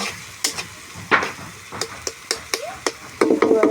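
Spice paste being fried and stirred in a pan over a clay stove for chicken curry: a series of short, sharp scrapes and clacks of the spoon at an uneven rhythm over a light sizzle, close by, with no talk.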